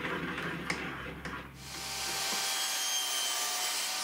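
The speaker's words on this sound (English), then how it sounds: "I'm using my chisels to create the corresponding chamfer" Wood chisels pare a chamfer on a Pantorouter XL part, giving close, scraping and rubbing strokes for about two seconds before a steady whooshing noise takes over.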